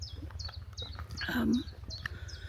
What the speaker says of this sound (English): It's lovely to hear birdsong actually.